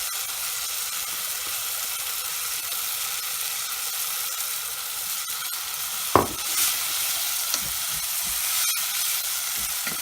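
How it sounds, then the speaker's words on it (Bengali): Red lentils and spices sizzle on high heat in a pan while being stirred, a steady frying hiss throughout with a couple of sharp scraping clinks of the spoon partway through. "হাই হিটে ডালগুলাকে মশলার সাথে প্রায় 1 মিনিট নাড়ব"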